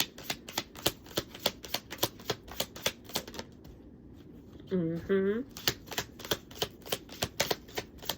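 Tarot cards being shuffled in repeated crisp riffling bursts, a fast steady patter of card snaps running nearly throughout, with a brief pause and a short spoken phrase in the middle.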